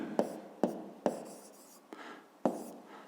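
Pen or pencil strokes on paper while working a fifth-grade geometry exercise on angles: five short scratchy taps and scrawls spaced unevenly, quiet and close, with no voice over them.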